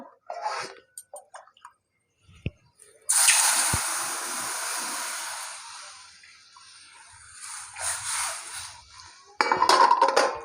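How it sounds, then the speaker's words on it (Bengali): Water poured into roasted semolina in a hot pan bursts into a loud hissing sizzle that fades over a few seconds, with scattered clinks of utensils before and after. "সুজিটা এবার দিয়ে দেবো জল"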